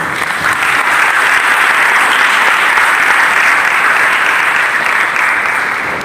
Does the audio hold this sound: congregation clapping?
yes